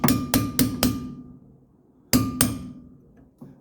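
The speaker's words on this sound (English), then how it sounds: "you put a punch right here and you just tap these pins in place" Brake pad pins on a 1980 Mercedes 300SD tapped in with a punch and hammer: a quick run of four sharp metallic taps, a pause, then two more strikes and a faint final tap, close and ringing.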